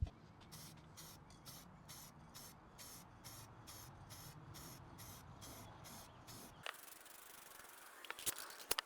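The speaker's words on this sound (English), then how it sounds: "we're gonna go ahead and spray paint this thing with some high heat semi-gloss paint." Spray paint hisses from an aerosol can in a rapid series of short, evenly spaced bursts as high-heat semi-gloss paint goes onto a portable Hibachi grill outdoors. The spraying then stops, leaving a quieter stretch with a few faint clicks and taps.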